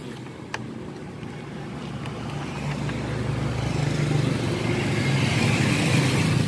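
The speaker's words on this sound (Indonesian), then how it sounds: "Itu mesin motor gue." A steady Honda Beat FI motorcycle engine drone hums continuously, gradually growing louder and rougher over several seconds, with a brief click near the start and no speech.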